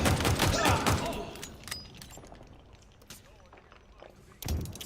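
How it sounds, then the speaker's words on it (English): Grenade blasts and gunfire from a Halo Infinite multiplayer match rattle in a dense burst of loud booms and thuds, fade into quieter game sounds, then another blast hits near the end. "here come the grenades, right? Just a sickening amount of grenades."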